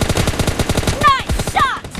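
M416 assault rifle fire in PUBG Mobile Lite during a team deathmatch, a rapid, loud automatic burst of evenly spaced shots followed by sharp ricochet-like chirps.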